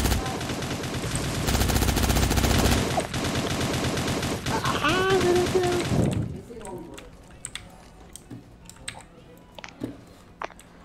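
Rapid video game gunfire rattles in dense bursts for the first six seconds, loud and continuous. Scattered sharp clicks and pops follow, with a voice chattering over parts of it.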